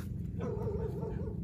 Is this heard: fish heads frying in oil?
no